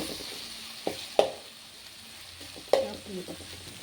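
Grated raw mango sautéing in an oily pan, with a steady soft sizzle and a couple of sharp scrapes of a spoon stirring against the metal.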